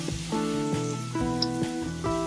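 Eggplant frying in oil in a pan on a stovetop for Sicilian caponata, a steady close sizzle with no talking.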